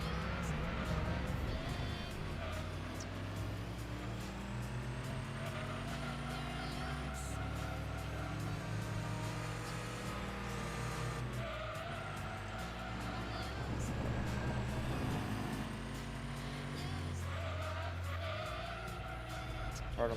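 Race car in the video game Gran Turismo 2 drives with a steady, loud engine drone that shifts pitch through gear changes, with brief tire squeal and skidding under heavy braking, and a voice talks over it throughout.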